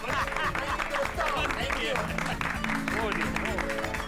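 Clapping breaks out in a sitcom scene, a steady patter of applause running under the voices of people talking over it.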